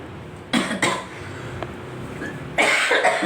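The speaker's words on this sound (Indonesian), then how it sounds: "Batuknya masih ada guys." A recovering young boy coughs a few times in short bursts, close and moderately loud, with quiet gaps between the fits.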